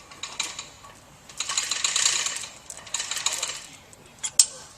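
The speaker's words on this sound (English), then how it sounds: "we'll go ahead and torque down the motor bolts" A ratchet tightens the motor bolts on a Pentax vertical centrifugal pump, giving bursts of quick metallic clicking close by with brief pauses between strokes, alone without talk.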